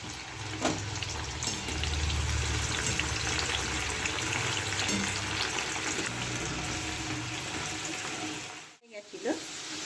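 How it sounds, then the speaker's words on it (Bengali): Lentils deep-frying in hot oil for dalmut give a steady, dense sizzle that runs nearly the whole time, with a brief drop near the end before the crackle resumes. "এবার ফেনাটা কমে গেছে এরকম ভেসে উঠছে মানে আমার ভাজাটা ঠিক হচ্ছে"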